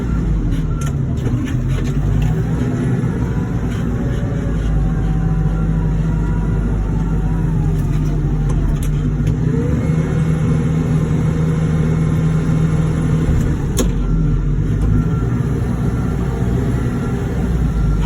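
A Kawasaki wheel loader's diesel engine runs steadily and loudly, heard from inside the cab while loading horse manure, a constant deep rumble with a faint whine and a few rattles over the whole stretch.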